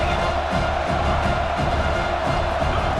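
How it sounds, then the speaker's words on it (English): A football playoff stadium crowd cheers in a loud, continuous roar, with a dense wash of voices and no single caller standing out. "this crowd is fired up. Listen to this noise here."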